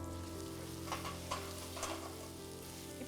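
Tomatoes for chicken biryani sauté in a pan, a soft, steady sizzle punctuated by a few light stirring scrapes over a faint background hum.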